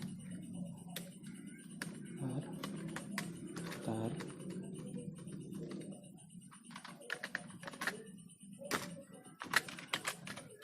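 Keys clatter on a computer keyboard as text is typed into Microsoft Word, in uneven bursts of quick taps and a few louder strokes. A voice speaks in the background, fading as the typing grows denser.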